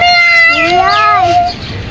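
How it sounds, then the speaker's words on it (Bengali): A small kitten by the roadside gives a long, high, wavering meow up close, and the call fades out near the end. "দেখো তো বিড়ালটাকে দেখো তো"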